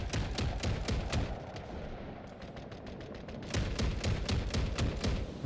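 Rapid bursts of automatic gunfire crackle through a Delta Force video-game battle, with a brief lull midway before dense, loud volleys resume over a constant roar of combat.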